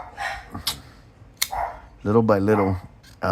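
Several sharp dog barks ring out close by, a short burst of yips followed by a longer, harmonic bark, with no talking.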